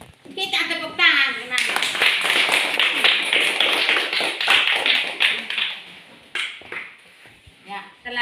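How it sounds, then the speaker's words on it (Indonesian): A classroom of students claps together during a lesson on the wise King Solomon. The dense, loud applause lasts several seconds, and children's voices come just before it and as it fades. "Kita tepuk tangan."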